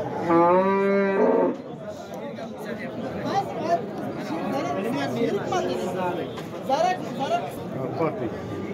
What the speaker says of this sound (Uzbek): Mana ham buqa